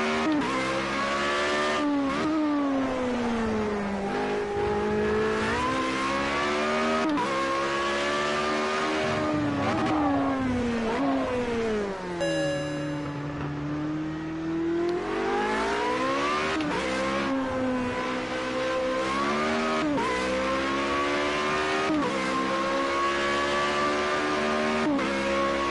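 A loud, continuous Formula Renault engine in the racing game Project Cars 2 revs up and down through gear changes, its rising and falling whine dominating throughout with no voices.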